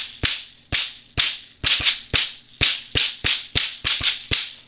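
A kayamba raft shaker played alone in a steady rhythm of about a dozen sharp, close strokes, each a crisp burst of rattling seeds that quickly decays.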